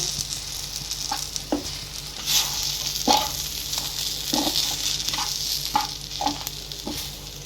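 Fish masala and chili powder fry in oil, making a continuous sizzle broken by regular scraping stir strokes about once a second, close and alone.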